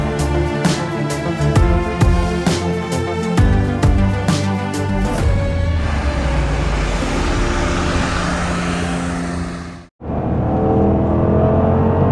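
A Porsche 4.8 V8 burbles in a parking lot at sunrise in the Emirates, loud and close, with crackling pops and revs at first, then a steady droning idle that cuts off abruptly before resuming.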